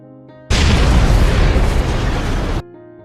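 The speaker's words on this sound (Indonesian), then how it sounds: "Tanpa peringatan, kapal tanker itu meledak" A tanker truck blows up in a film, a loud broadband explosion bursting in abruptly and roaring for about two seconds before cutting off, with quiet music-like tones before and after.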